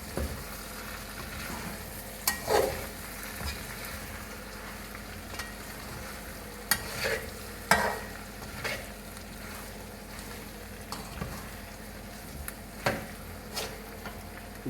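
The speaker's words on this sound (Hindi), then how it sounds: "अब हम इसको एक दफ़ा मिक्स करेंगे।" Chicken daal karela with chana daal simmering in a pot over low heat, steady soft frying sizzle with a few clinks and scrapes of a spoon stirring now and then.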